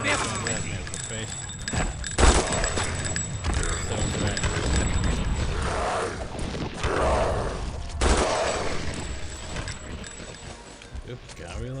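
Bursts of rapid gunfire from the PC game Vampire: The Masquerade – Redemption, loud close shots in uneven volleys with game effects and a voice talking over the action.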